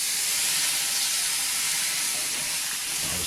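Water hits a smoking-hot pan of bacon fat and juices, bursting into a loud, steady sizzle and steamy hiss that holds strongly throughout with little change.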